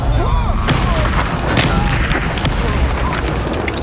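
Confringo, an explosive spell in Hogwarts Legacy, lands as several booming blasts and crashes over a dense rumble of combat noise.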